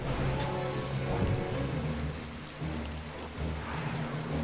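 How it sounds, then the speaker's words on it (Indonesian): Rain falls in the video game Final Fantasy XII The Zodiac Age as a steady, dense hiss over a low ambient rumble, with no other distinct sounds. "Waduh, hujan, guys."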